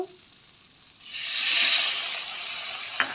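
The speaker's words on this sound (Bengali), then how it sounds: "মশলাটাকে একটু ভেজে নেব, কষিয়ে নেব।" Masala paste for a Bengali egg curry sizzles in a pan after water is added, a sudden loud steamy hiss that swells and then settles into steady frying, with a small clatter near the end.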